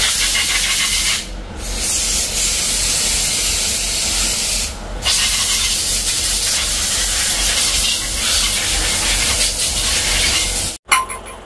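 Loud, continuous aerosol hiss of cleaner sprayed onto a Pajero Sport engine bracket during an engine rebuild, running in long bursts with two brief pauses and then a sudden cutoff before a final short spray.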